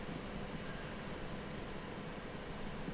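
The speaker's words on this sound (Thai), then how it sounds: "ผมว่าเสียงคลื่นแหละ" Steady, broad wash of ocean waves in modded Minecraft survival, a constant hissing roar at moderate level with no distinct breaks and no talk.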